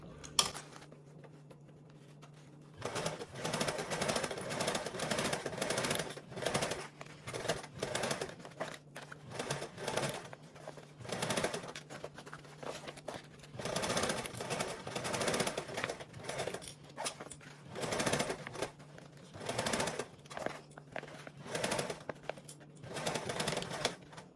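A sewing machine basting a 1/8-inch seam allowance around a fabric perimeter runs in steady rhythmic bursts with short pauses between them, loud and close, with no talking.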